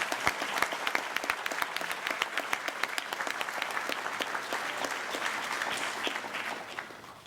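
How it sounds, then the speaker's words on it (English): Audience applause at a school sports gala, many hands clapping in a steady dense roar for about seven seconds before tapering off slightly at the end. "Let's give a round of applause."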